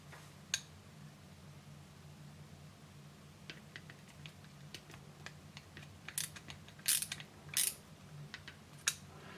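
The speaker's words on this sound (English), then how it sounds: "I've got a nice discount Walmart screwdriver here." A cheap discount Walmart screwdriver works the screws of Trijicon night sights on a Taurus PT111 G2 pistol, giving faint, scattered clicks and small metallic ticks over a low steady hum, with a few brighter scrapes toward the end.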